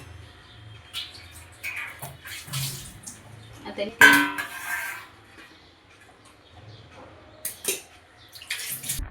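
Boiled potatoes going into a bowl of cold water in a home kitchen make intermittent splashes and sloshes, with a sharper splash midway, between short pauses and a brief spoken word.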